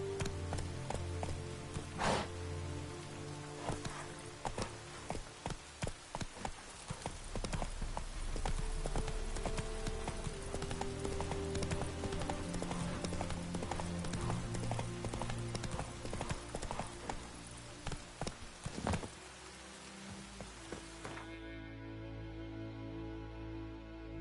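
The horse Roach gallops in The Witcher 3, with rapid, rhythmic hoofbeats close and loud over game ambience, slowing and fading near the end.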